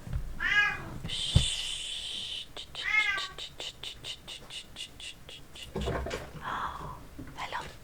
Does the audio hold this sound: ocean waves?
no